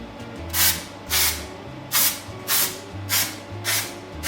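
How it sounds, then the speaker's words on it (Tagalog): An aerosol can of artificial snow spray is puffed onto a Christmas croquembouche of stacked profiteroles, seven short hissing bursts in a steady rhythm close to the microphone, over a faint low hum. "This is the snow we spray."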